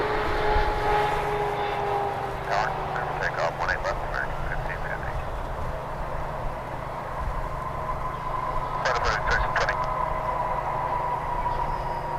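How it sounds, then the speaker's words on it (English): A Qatar Airways Boeing 777 arrives from Doha, its steady engine roar carrying from a distance as a constant drone, with a person talking over it throughout. "the big Q, Qatar Airways coming in from Doha"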